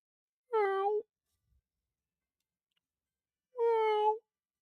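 A person imitates a cat's meow twice, voicing two separate drawn-out meows with a long silent pause between them, close and fairly loud.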